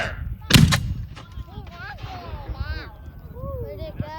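A mortar fires at a Gettysburg Civil War re-enactment, one sharp loud boom followed by a rumbling echo, with people talking and a dog barking around it.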